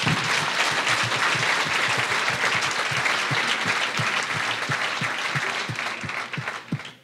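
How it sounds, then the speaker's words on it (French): An audience at a Basques entrepreneurial summit gives sustained applause, many hands clapping in a dense, even wash, with some nearer claps standing out, before it fades at the end. "on peut les applaudir quand même"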